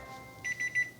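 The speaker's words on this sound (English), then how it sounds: "Let's put a timer on, shall we?" A kitchen timer starting up as it is set for three hours while food simmers on a stove, giving three short electronic beeps close by against a quiet room.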